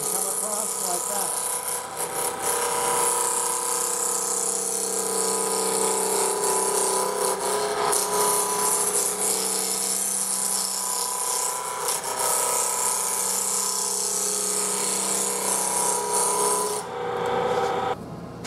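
A spindle gouge cuts wood spinning on a lathe, a loud continuous raspy scraping hiss that holds steady for most of the time before cutting off near the end.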